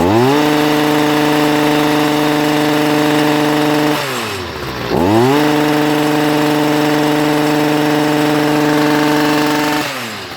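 A Stihl MM55 Kombi small gas engine runs loud and steady at high revs, drops briefly as the throttle eases off, then revs back up and holds.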